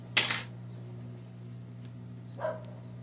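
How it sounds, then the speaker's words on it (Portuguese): A pack of dogs barks in the distance, with two short bursts of barking well apart over a steady electrical hum in a repair workshop. "Cachorrada latindo lá."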